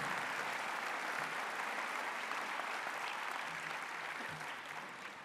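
An audience at a mayor's New Year address applauds the elected officials, a steady wash of many hands clapping that fades slightly toward the end, heard from some distance.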